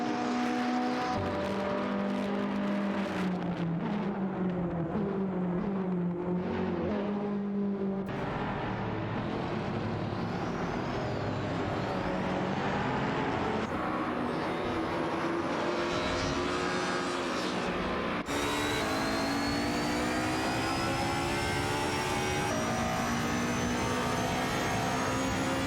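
Engines of race cars in a racing video game, including a Ferrari Fiat Tributo and a W Motors Lycan Hypersport, whine and climb through rising gear pitches, loud and continuous with shifts and overlapping cars, no voices.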